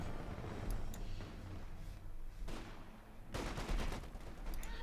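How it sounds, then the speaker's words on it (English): A .50 cal machine gun fires in Company of Heroes 2, sounding as rapid bursts of gunfire mixed with other battle shots and impacts, loud and close, broken by short pauses. "The 50 cal mercilessly murders them."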